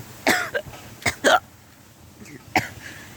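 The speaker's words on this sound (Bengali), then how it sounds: "কাশি আইতেছে" A few short, sharp coughs close by on a riverbank, spread unevenly over a few seconds with quiet pauses between them.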